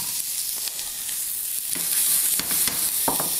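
Carrots and onions fry in a hot pan, a steady bright sizzle with occasional stirring scrapes and crackles, close and fairly loud, with no voices.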